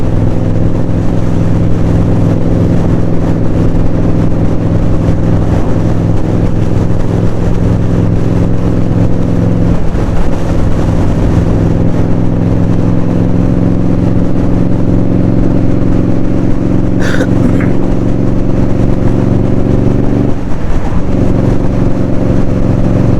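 An Indian Scout Bobber motorcycle holds a steady, loud engine drone while leaning through bends at a fast pace. Wind noise runs throughout, and the engine tone dips briefly around two points in the ride.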